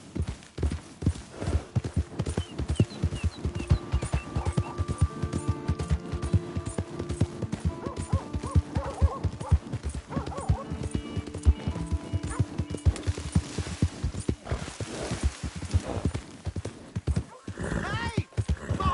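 Horse hooves clip-clop steadily in Red Dead Redemption 2, a fast rhythmic run of close, sharp hoofbeats with a horse whinnying, backed by game music and some voices.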